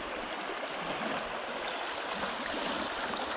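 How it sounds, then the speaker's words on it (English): Rain-swollen creek water rushes and curls over an obstruction near an eroding bank, a steady broadband roar close by with no speech. "You can sort of see where the water's sort of curling over it"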